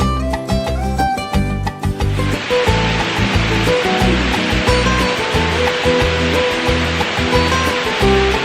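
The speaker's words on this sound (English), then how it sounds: "I found a good spot, I think, right in front of the falls." Mineral Springs Falls in New York pours in a steady, dense broadband rush of falling water, close and loud, with a beating low-pitched musical pattern running through the whole stretch and a brighter tonal passage at the start.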